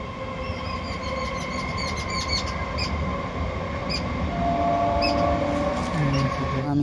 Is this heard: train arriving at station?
yes